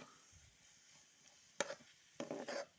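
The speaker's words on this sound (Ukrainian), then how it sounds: "Мішаю зажарочку" A spoon scrapes and stirs frying vegetables in a pan, two short scraping strokes after a quiet stretch, faint and close, with light sizzling underneath.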